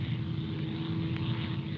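Propeller airplane droning overhead in a 1953 war drama. The engine hum is steady and fairly loud and lasts the whole time, with no speech.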